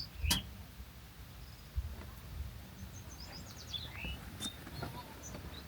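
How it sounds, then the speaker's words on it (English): Several short bird chirps and calls sound at moderate distance in a quiet outdoor setting in Black Canyon of the Gunnison National Park, with faint thumps and background hiss between them. "Birds are bidding us adieu."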